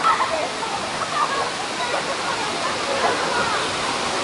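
Kawasan Falls in Cebu pours steadily, a broad rushing wash of falling water that is fairly loud and continuous, with faint voices mixed in beneath it.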